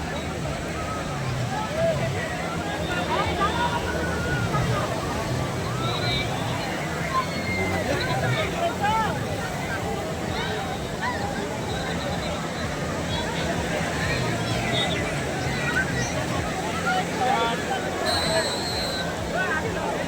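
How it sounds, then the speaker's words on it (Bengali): Speedboat ride at crowded Sugandha Beach, Cox's Bazar, during the Eid holidays: a steady wash of engine, water slosh and crowd babble runs throughout, with no single voice standing out. "এই যে বন্ধুরা দেখতে পাচ্ছেন স্পিড বোট দিয়ে রাইড হচ্ছে।"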